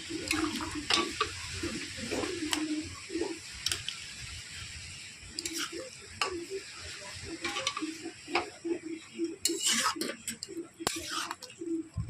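Water spinach being stirred in a pan after a little water is added, giving a soft, intermittent sizzle broken by repeated scraping and clicking taps of the spatula at an irregular rhythm.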